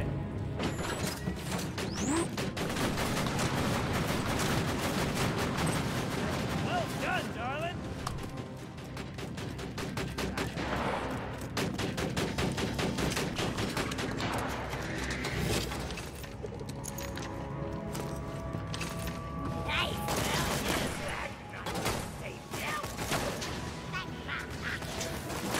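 Rapid turret gunfire in the Borderlands 2 video game, a dense, continuous mechanical clatter of shots running the whole length with explosions and game effects layered in, loud and close, with brief voices mixed underneath.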